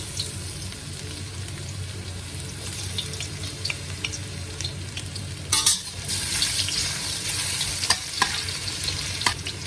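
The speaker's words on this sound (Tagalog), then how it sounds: "Wait lang natin mag-brown yung ating bawang at luya." Garlic and ginger frying in a pan for river prawn yee mee noodles, a steady sizzle with stirring scrapes, getting louder and busier halfway through.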